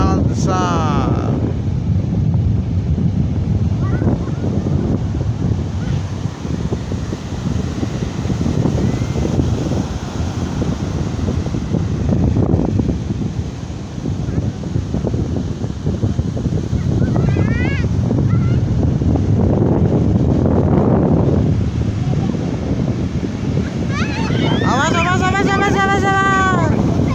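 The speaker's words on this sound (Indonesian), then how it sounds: "Lagi banting ombak." Sea waves pound the shore at Setrojenar beach in a loud, continuous roaring wash with surging swells, buffeted by heavy wind noise on the microphone, while voices talk intermittently over it.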